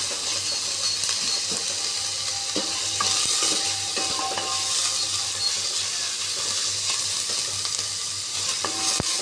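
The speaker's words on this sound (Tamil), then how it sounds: "வெங்காயம் என்ன வதங்குது ரொம்ப வதங்க தேவையில்லை" Onions sauté in a pan for drumstick curry, sizzling steadily and close with scattered clinks and scrapes of stirring and no voices.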